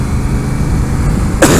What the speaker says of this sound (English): Except for the coughing.